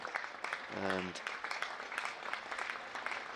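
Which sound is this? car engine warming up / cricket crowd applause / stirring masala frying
cricket crowd applause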